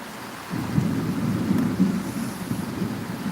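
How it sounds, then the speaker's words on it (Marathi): A deep rumbling roar swells up after a brief quiet start and keeps rolling, like thunder over a heavy downpour, loud and close. "खूपच मोठा पाऊस आला"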